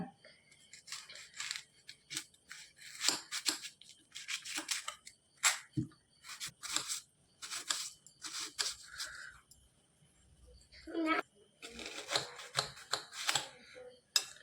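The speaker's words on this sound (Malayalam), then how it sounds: "അപ്പം നമുക്ക് ആദ്യം ഉപ്പുമാവിന് വേണ്ടിയിട്ടുള്ള ഉള്ളി അരിയാം" A knife chops onions for upma on a board in a quiet home kitchen: a steady run of soft, crisp cuts in close, faint bursts with short pauses between them.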